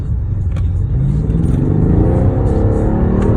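A car pulls away from a standstill with a loud, close engine note that climbs steadily in pitch as it accelerates, a rumbling growl rising over a few seconds with some clatter underneath.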